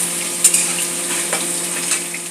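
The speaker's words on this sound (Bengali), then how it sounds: "এখানে মোচার আলু ভাজা হচ্ছে" Potatoes sizzle while frying in a pan for a banana flower curry, giving a steady close sizzle with a few light stirring clicks on top.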